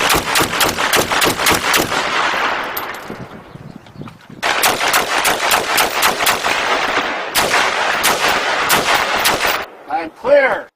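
Rapid rifle volleys at a firing range during a range test on cabinetry, loud sharp shots in fast bursts, with a pause between strings and a brief muffled voice at the end.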